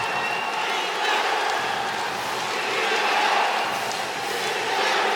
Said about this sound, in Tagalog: And you can hear it from the crowd.